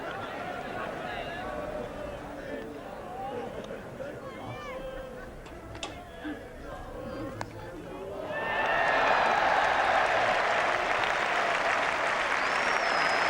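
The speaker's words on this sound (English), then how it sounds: "the crowd is now animated" Crowd at a 1981 Ashes cricket match with Ian Botham batting breaks into loud, sustained applause and cheering after a stretch of quieter murmur, with a commentator's voice over the earlier part.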